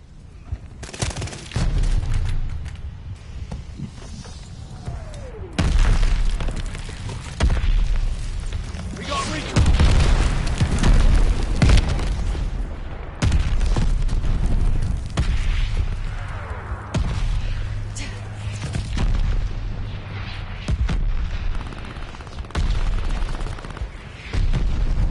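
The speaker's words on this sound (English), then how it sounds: "Mortars loaded. Call a shot. Watch your heads. Shells falling." Mortar shells explode in Call of Duty: Vanguard hardcore team deathmatch on PS5: heavy booms and bursts of gunfire come in waves, with in-game voice callouts over the battle noise.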